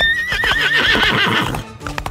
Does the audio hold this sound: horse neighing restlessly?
yes